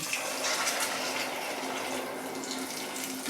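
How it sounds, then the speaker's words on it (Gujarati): A cup of water is poured into potato and pea curry in a pressure cooker, making a steady, close rushing splash that runs continuously and fairly loud, with no talking. "હવે આપણે એક કપ જેટલું પાણી આમાં એડ કરીશું"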